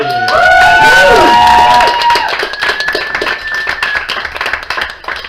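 Audience at a spoken-word and slam performance evening breaks into clapping and cheering, with whoops and shouted voices over the top at first, then settling into steady applause.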